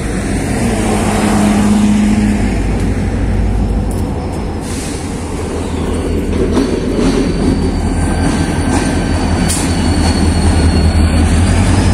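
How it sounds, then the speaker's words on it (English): A train runs along railway tracks outdoors, a loud continuous rumble with rolling wheel clatter and squeals that holds steady throughout. "Yeah, there's a train over there."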